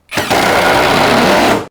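A KOTEC Model X impact wrench runs in a test while driving a screw, giving one loud, steady, harsh buzzing burst that lasts under two seconds and then stops abruptly.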